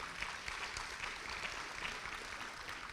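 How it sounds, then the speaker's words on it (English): Audience applause at a celebratory talk event, a steady, fairly faint wash of clapping throughout with no clear pauses. "let's clap for that."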